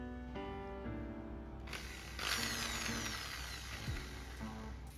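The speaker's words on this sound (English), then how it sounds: "I did not go for any fancy tools, just a drill machine and sanding disc." A power drill fitted with a sanding disc grinds across a painted wooden table, giving a whirring mechanical whine with shifting pitch and a rougher, louder burst of sanding partway through. It is close and has no talk over it.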